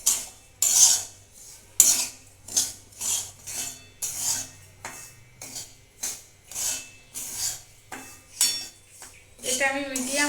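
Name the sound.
semolina frying and being stirred in ghee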